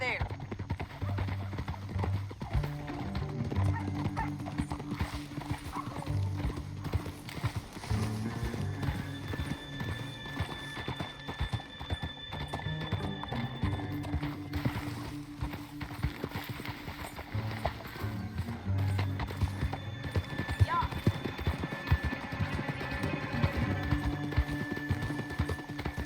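Steady clip-clop of galloping horse hooves in the video game Red Dead Redemption 2 runs throughout, with horses whinnying now and then, under music and occasional voices.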